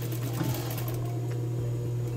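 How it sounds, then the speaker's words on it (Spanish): A sewing machine runs steadily, stitching a seam on the back of men's lace underwear made with embroidered lace; a continuous close mechanical hum with a fast rhythmic whir and no voices. "En la parte del trasero también voy a pasar un pespunte"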